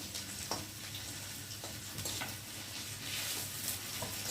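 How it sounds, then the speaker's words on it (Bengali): Garlic frying in hot oil after onions in a pan for bhetki fish curry, a steady close sizzle and crackle with occasional soft scrapes of stirring, no voices. "রসুনটা একটু ভালো করে ভেজে নেব"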